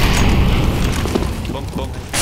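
A flashbang grenade goes off in CS:GO on the Inferno map, a dense low boom with broad crackling noise sustained across the whole short span, loud and close, with a brief fresh burst at the end.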